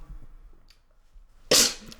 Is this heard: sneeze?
yes